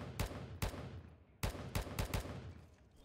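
Gunshots in the video game Will To Live Online, around six sharp reports in an uneven pattern, some spaced apart and others in a quick cluster, loud and close with no talking.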